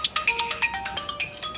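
A mobile phone ringtone plays close by, a bright melodic run of quick repeating electronic notes in a steady rhythm, with no talking over it.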